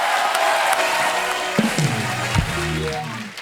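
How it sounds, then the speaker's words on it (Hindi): A studio audience at The Kapil Sharma Show, a Hindi TV comedy program, breaks into a sustained wash of clapping and cheering, loud and crowded, with voices and musical tones mixed in. "आइए प्लीज विराजमान हो जाइए, जोरदार तालियां हो जाए।"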